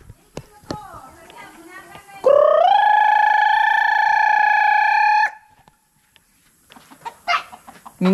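Chickens on a rural homestead give scattered short clucks, then one loud, sustained crowing call lasting about three seconds, close by, with people talking before and after.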